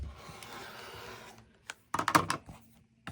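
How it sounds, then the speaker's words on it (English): A sharp blade slices through quilt fabric in a few quick scraping strokes, near and fairly quiet, with a short bright burst of cutting after a soft rustle. "So I'm going to cut here."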